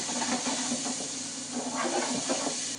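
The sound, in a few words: chopped onion and garlic sizzling in a hot pan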